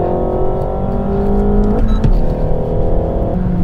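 A Renault Megane RS hatchback driven hard, its engine droning loud and steady with a rising rev swell near the middle, continuous road and wind noise throughout and no talking.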